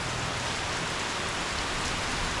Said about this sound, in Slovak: Aj keď tropická dovolenka, tak nemáme tropické slnko, ale tropický dážď.